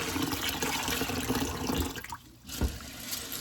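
Dry pinto beans are rinsed in water, a steady close splashing and sloshing with a brief lull partway through; no voices are heard.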